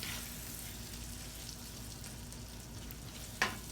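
Apples caramelize in a skillet with a soft, steady sizzle and faint crackle, quiet and continuous, with a single sharp tap near the end.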